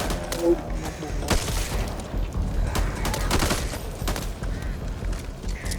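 Gunfire in the zombie shooter Back 4 Blood is aimed at birds, with dense, continuous rapid shots and mixed game noise under excited talking.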